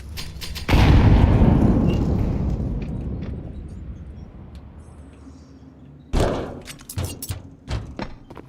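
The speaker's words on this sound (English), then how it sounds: "Throwing grenade." A grenade thrown and exploding in Counter-Strike 2, a heavy booming blast with a long rumbling decay, followed a few seconds later by sharp thumps and clattering impacts, loud and close with no talking.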